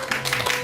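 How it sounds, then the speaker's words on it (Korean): Lecture audience welcoming a professor onto the stage of a Korean talk program, a brief, fairly soft spread of many hands clapping. "큰 박수 부탁드립니다."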